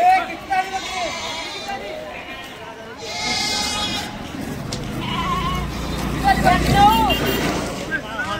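Goats bleating repeatedly at the crowded Deonar goat market, several cries rising over constant market bustle while someone talks throughout.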